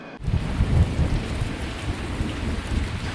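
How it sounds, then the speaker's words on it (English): Heavy rain pouring down on a city street in a film scene, a loud dense roar that starts abruptly and carries a deep thundery rumble beneath the steady downpour. "I love the rain in the city."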